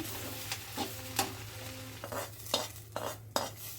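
A spatula scrapes and knocks in a pan as masale khara spice ingredients are dry roasted and stirred, with irregular clinks over a faint sizzle and a low steady hum.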